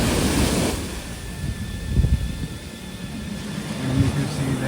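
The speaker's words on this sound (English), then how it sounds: "the water is coming more up and up" Ocean waves washing up on a Cancun beach beside the hotel zone, a steady roar of surf with rising swells, mixed with gusty wind buffeting the microphone.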